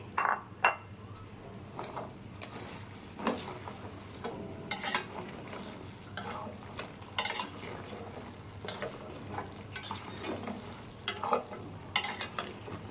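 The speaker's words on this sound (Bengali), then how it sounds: "চিনি শিরের মধ্যে দিয়ে একটু সময় নাড়তে হবে" Homemade flour khurma sweets stirred through sugar syrup in a pan: close, repeated scraping strokes of a spoon against the pan with occasional light clinks, arriving in irregular bursts over a steady low background, with no voices.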